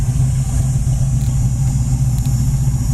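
Engine of a 1979 Pontiac Trans Am, freshly tuned, running steadily at a smooth idle, close and constant with a deep low rumble and no talk.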